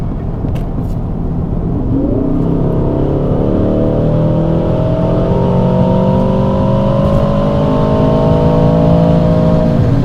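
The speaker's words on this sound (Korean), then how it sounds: "일단 스포츠 플러스로 두게 되면은 배기가 어마무시해집니다." An Aston Martin DBX707 SUV with a 707-horsepower engine, driven in Sport Plus mode and accelerating hard on a highway: a loud, rising engine and exhaust note climbing steadily in pitch, with a constant road roar underneath.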